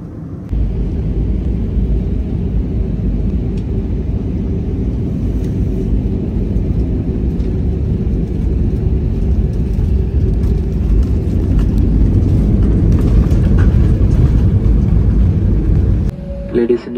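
Loud, steady low rumble and hiss of an airplane cabin heard from a window seat, continuous for the whole stretch with a brief change at the end.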